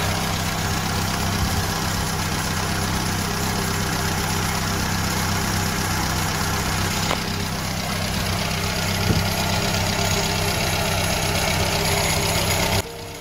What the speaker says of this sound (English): Now the engine's up to temperature,